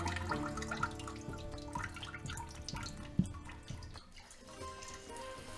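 Water jets from a Xiaomi smart bidet toilet seat in a steady, forceful spray with splashing and dripping, close and fairly loud, with one sharp knock partway through and no talking.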